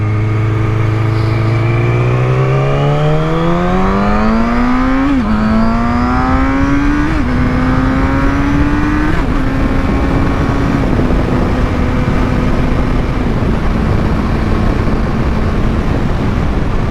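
A third-generation Yamaha R6 sport bike howls through several rising gear pulls, each upshift dropping the pitch before it climbs again, then settles into a steady cruising drone with heavy wind roar.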